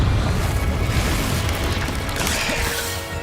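Confringo blasting spell in Hogwarts Legacy, a loud rumbling explosion with crashing debris and mechanical clatter that slowly fades over a few seconds.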